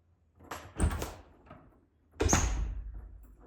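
An igloohome Deadbolt Go smart lock's key turns, giving two short mechanical clunks about a second and a half apart, close and fairly loud, with no talk.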